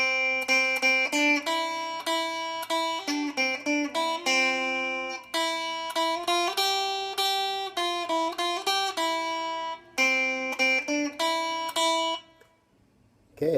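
Itsy Bitsy Spider melody picked note by note on guitar, clear plucked single notes in an even rhythm, close and alone, ending in silence.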